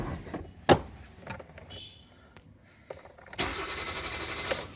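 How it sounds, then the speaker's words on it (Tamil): A Hyundai i20 with a faulty engine control module cranks without starting, a starter whirring under scattered clicks and a door thump, then a sustained louder cranking burst near the end. "So at this moment the only vehicle will crank but doesn't start."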